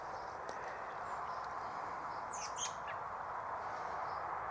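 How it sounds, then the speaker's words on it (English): Birds call outdoors around a grass hut settlement near woods, with a few scattered squawks and chirps over a steady, hissing background hum. "Surprised to hear all the birds today."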